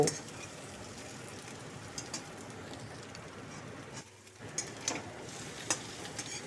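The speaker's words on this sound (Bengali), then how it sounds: "সমস্ত মশলা দেওয়ার পর আরও কিছুক্ষণ এইভাবে ভালো করে গাটি কচুগুলোকে মশলার সাথে নাড়িয়ে নেব" Gathi taro pieces are turned with spices in a pan, a soft sizzle running under faint, intermittent scraping strokes, quiet and close, with a brief lull midway.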